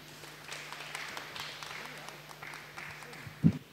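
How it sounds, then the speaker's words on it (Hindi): Audience clapping at a welcome ceremony of a Catholic parish gathering in Kunkuri, Jashpur, comes as a faint scattered patter under a low background hum, ending with a brief louder thump. "जोरदार तालियों द्वारा इनका धन्यवाद देंगे।"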